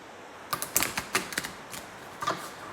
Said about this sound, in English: So I'm gonna just shuffle the cards to see how the shuffle works.